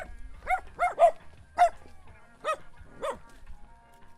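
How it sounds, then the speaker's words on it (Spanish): A small puppy gives about six short, sharp yaps in an irregular series, moderately close, with quiet background between them. "El primero en saludarnos es un pequeño cachorro que nos observa fijamente y lanza un par de ladridos."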